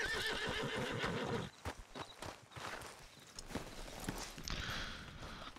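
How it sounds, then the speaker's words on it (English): A horse in Red Dead Redemption 2 gives a loud, close whinny, followed by a scatter of clip-clopping hooves and shuffling steps as it settles after being hitched. "Let's hitch our horses here."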